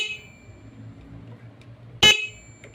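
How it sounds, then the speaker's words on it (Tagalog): A Romai e-bike horn, just repaired, gives one short, loud, close honk that cuts sharply over a low background hum. "Okay, ganyan lang pag-ayos ng ating horn sa e-bike."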